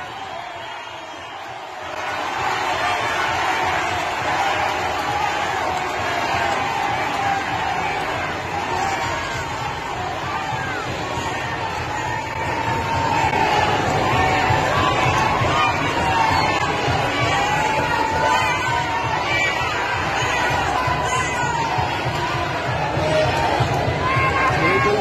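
A large crowd boos and shouts at a public event, a dense, continuous roar of many voices that swells louder partway through and holds for the whole stretch.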